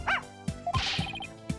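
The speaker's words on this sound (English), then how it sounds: "But this is my dog, Shadoo." A cartoonish dog bark from Phoenix Wright: Ace Attorney, a few short yips and a rising whine over bright game sound effects and chiming tones, close and clear.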